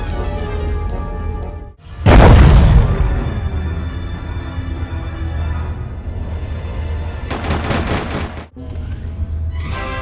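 Weapons open fire at Superman in the Superman: Shadow of Apokolips video game: a sudden loud blast, then a ringing electronic hum, and a second sharp burst of rapid fire near the end.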